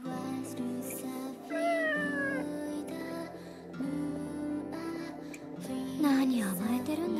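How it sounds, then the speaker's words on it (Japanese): A black cat in the video game Nights of Azure meows several times in rising and falling calls, set against steady background music. "こいつはいつもの黒猫だな。"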